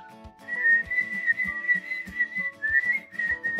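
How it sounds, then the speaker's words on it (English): A young child whistles a wavering, breathy tune in short repeated phrases, close and fairly soft, with light soft knocks underneath. "Oh, let's whistle together."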